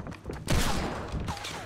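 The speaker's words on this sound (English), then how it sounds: "I'm getting shot at from somewhere else" A burst of gunfire in Fortnite: Battle Royale breaks out sharply after a short quiet stretch and then rattles on as a loud, close volley, with a few thinner shots trailing behind.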